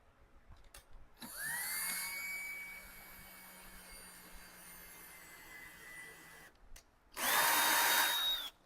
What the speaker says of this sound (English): So I need to pre-drill a hole to make sure that it's going all the way through.